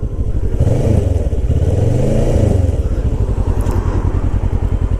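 A Kawasaki Ninja 650 (ER-6f) motorcycle engine runs steadily at close range, its throbbing idle rising and falling slightly, with a faint rattling buzz from the fairing riding on top.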